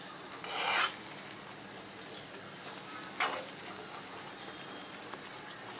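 Cashew katli mixture is stirred and reduced in a pan on a low flame, giving soft scraping rasps with a couple of louder strokes over a faint steady background.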